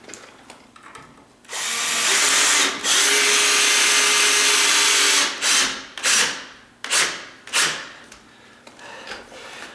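A power drill drives screws into a sagging door, close and loud: one long whirring run followed by several short bursts as the screws are seated, with no talking.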